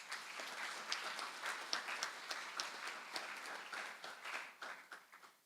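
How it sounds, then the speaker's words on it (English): Audience applause at a Model United Nations opening ceremony, a dense patter of many hands clapping at moderate distance, fairly soft and steady for several seconds before thinning out. "give yourselves a round of applause"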